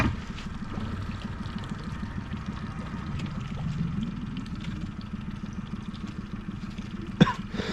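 Small boat's outboard engine reversing during a night catfish fishing trip from a riverbank, a steady low motor drone with harmonic throb running throughout, with a brief sharp knock near the end.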